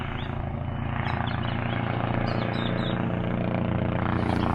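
A helicopter's steady rotor and engine drone holds throughout, continuous and fairly close, with no talking.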